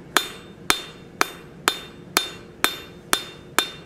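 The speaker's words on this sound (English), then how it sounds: "Next heat here, I'm gonna go ahead and forge this down square." Hammer blows forging hot steel down to a square section, eight sharp ringing strikes at a steady, even rhythm, loud and close with no talk.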